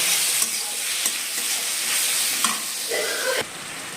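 Onion, capsicum and chilli stir-frying for chilli cabbage, a bright, loud sizzle with repeated spatula scrapes and knocks against the pan, easing off near the end.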